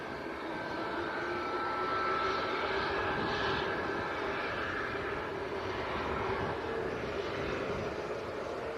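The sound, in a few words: Ryanair Boeing 737 Max jet at Manchester airport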